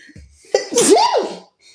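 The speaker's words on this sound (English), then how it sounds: "I feel a sneeze" A single loud sneeze close by, with a short sharp intake of breath before the burst.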